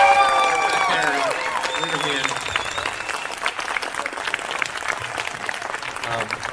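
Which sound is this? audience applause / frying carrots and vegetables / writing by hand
audience applause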